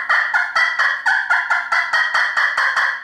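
A turkey call played on the second side of a two-sided slate gives a rapid, even series of about a dozen loud, close yelping clucks, each note sharp and evenly spaced, with no voices.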